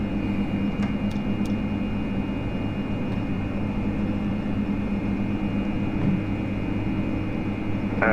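A Q400 turboprop takes off in the Prepar3D flight simulator, a loud, steady engine roar with a constant high propeller whine, unbroken for several seconds with a few faint clicks and no talk.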